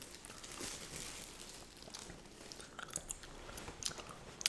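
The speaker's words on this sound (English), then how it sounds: "if y'all just enjoy the gum chewing" Gum chewing up close during a whispered sports-card session, with soft wet smacks and crinkly bites repeating unevenly over several seconds, quiet but crisp, with no talking.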